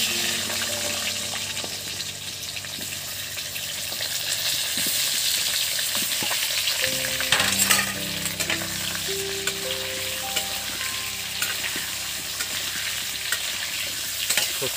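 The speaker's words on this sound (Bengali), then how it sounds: "এইগুলো একদম নতুন আলু, ওই মাছের তেলেই ভাজা হচ্ছে।" New potatoes fry in the oil left over from frying rohu fish, crackling and sizzling loudly and steadily in a pan, with occasional scraping and stirring as a spatula turns them.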